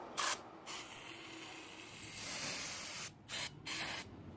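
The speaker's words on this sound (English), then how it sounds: "If not, I'm just going to spray it with carb cleaner, standard old carb cleaner" Carb cleaner sprayed from an aerosol can onto a gummed-up carburetor from a Miller XR 100: a short blast, then a long steady hiss, followed by three quick bursts, close and loud.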